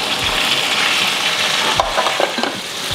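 Brinjal sautéing in hot oil with turmeric and salt, making a loud, continuous sizzle close up, broken by a few stirring scrapes and light clinks in the pan, with no speech.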